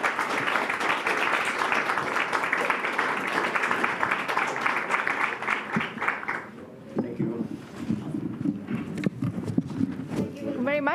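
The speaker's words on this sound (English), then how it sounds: "please, let's give a round of applause to our speakers" Applause from a conference audience thanking panel speakers at the Prague European Summit, dense clapping filling the first six seconds before thinning into scattered claps, with a voice talking in the room.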